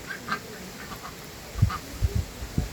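White ducks on a farm quack in a few short nasal calls, moderately close, spaced irregularly over a quiet outdoor background without speech.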